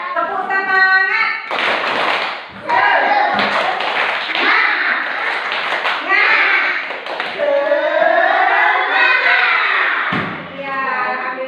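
Elementary pupils in a classroom perform a rhythmic clapping chant led by their teacher during an Islamic studies lesson. Loud, patterned bursts of claps alternate with sung and chanted children's voices, close and energetic throughout.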